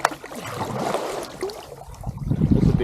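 Kayak paddle sweep stroke pulling through lake water on an inflatable kayak at Lake Guntersville, a soft swishing wash with wind noise, building into a louder splashing surge toward the end.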